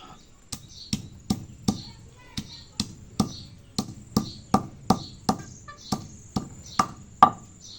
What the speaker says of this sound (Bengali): গরম মশলা জিরা রসুন একসাথে বেটে নেবো